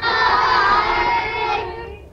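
Primary schoolchildren cheer together in their classroom, a loud, bright burst of many young voices shouting that swells and then fades over about two seconds.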